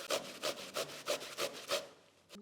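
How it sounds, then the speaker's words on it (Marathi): Beetroot grated on a fine kitchen grater in a Marathi home kitchen: six or seven rhythmic rasping strokes, close and clear, with no voices. "पहिले बीट जे आहे ते छान आपण बारीक किसणीवर किसून घ्यायचं आहे"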